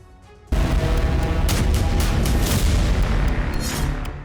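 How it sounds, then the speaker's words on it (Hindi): Loud, sustained blast and boom sounds from explosions in Syria, captured in war news footage, breaking in abruptly after a quiet moment and rumbling on with dense, continuous roar and crackle. "सीरिया धमाकों से दहल गया"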